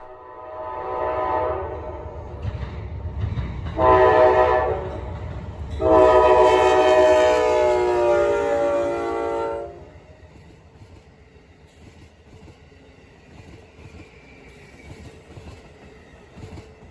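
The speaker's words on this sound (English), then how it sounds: "My final catch of the evening was Northeast Regional 186, the evening train from Newport News to New York City." An Amtrak Northeast Regional 186 train rolls past and sounds several horn blasts, two short ones and then a long loud one. Quieter rumble of the passing cars follows.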